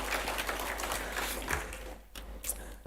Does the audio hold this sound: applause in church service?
yes